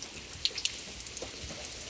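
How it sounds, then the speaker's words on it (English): Rain falls outside in a soft, faint, steady patter, with a few sharper drips landing now and then. "Yeah, it's raining again."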